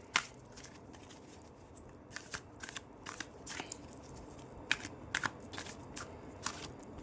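Tarot cards are shuffled and drawn by hand, giving quiet, intermittent riffling and sharp papery flicks at irregular intervals over a soft background, with no talking.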